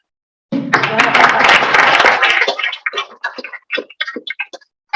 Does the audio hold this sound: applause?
yes